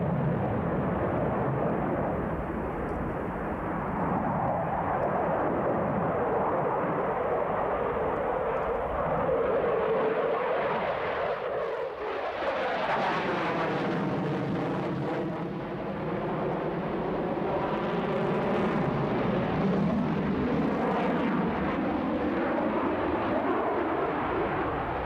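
A MiG-29 fighter jet flying by, its loud engine roar building and sweeping in pitch as it passes, then rumbling on steadily for the rest of the clip.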